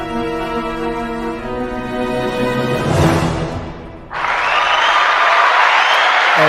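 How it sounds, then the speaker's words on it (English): A live crowd bursts into applause and cheering after music fades, then holds as a loud, sustained wash of clapping for the last couple of seconds. "Oh, listen to that lovely crowd."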